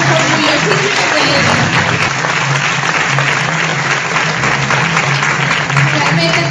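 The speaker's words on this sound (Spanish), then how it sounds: "yo quiero que le den un fuerte aplauso" Audience at a business entrepreneurship event gives loud, continuous applause, a dense roar of clapping that holds steady over a low background hum.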